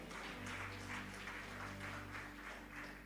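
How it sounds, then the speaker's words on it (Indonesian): Applause from a church congregation during a Sunday worship service in Semarang, a steady wash of clapping over a low sustained hum, fairly even throughout. "Beri tepuk tangan buat Tuhan."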